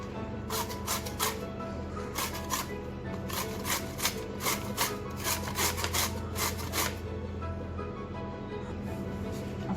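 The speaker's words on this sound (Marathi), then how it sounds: "गाजर पण आपण किसणीवर किसून घेऊ ते पण आपल्याला भाजीत वापरायचं आहे" Carrot is grated on a hand grater in a kitchen, with quick rhythmic rasping strokes in bursts, close and steady, pausing briefly between runs.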